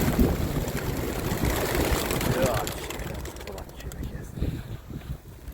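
A large flock of feral pigeons gathers to be fed in a city square in Szczecin, with dense wingbeats, soft cooing and scuffling close by, and a person talking intermittently over the steady crowd noise.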